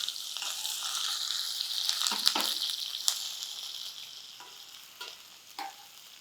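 Finely chopped onion fries in oil alongside baby potatoes for a potato fry, a close sizzle that swells then eases, punctuated by several sharp scraping stirs and spatula clicks, no speech.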